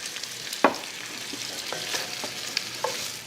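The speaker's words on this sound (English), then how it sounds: "when the onion is nice and wilted, we'll slide the turkey rollatini right back in" Turkey rollatini and wilted onions sizzle in oil in a frying pan, a close steady crackle with a sharp clatter of a utensil against the pan and a few lighter scrapes, no voices.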